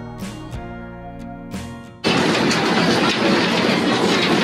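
A century-old tourist train running from Ambarawa to Tuntang gives a couple of loud horn blasts, then rolls into a steady, dense roar of wheels and carriages clattering on the rails.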